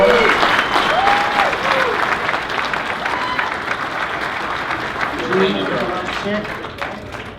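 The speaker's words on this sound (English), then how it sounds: "Round of applause" Applause from the audience at a Hot Wheels 2017 Nationals sneak-preview presentation, a dense, steady round of clapping with cheers and voices mixed in, fading slightly toward the end.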